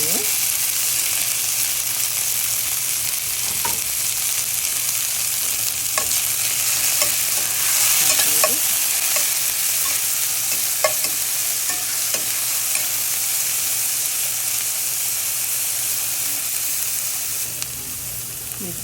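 Cilantro and onion frying in avocado oil, a loud, dense sizzle that holds steady throughout, with occasional soft scrapes of a utensil stirring the pan.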